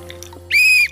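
A person whistles a single sustained, clear, high note of about a third of a second during a quiz among campers, close and loud against a quiet room hum.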